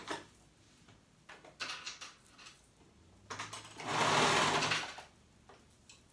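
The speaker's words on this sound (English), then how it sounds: "I'm gonna go ahead and serge it on" Serger stitching a romper seam while catching gathering stitches, short bursts of whirring at the start, then a longer louder run near the middle, separated by pauses and small handling clatter.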